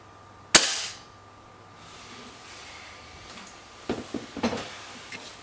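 A single sharp air rifle shot from a Webley Xocet cracks out nearby, followed by a short quiet lull and then a few faint clicks and knocks.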